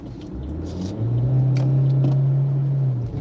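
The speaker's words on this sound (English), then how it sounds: "hear that fourth gear" A car engine pulls in fourth gear during highway and city driving, a low steady drone that rises in pitch and holds, with faint road rumble and occasional small cabin clicks, no speech.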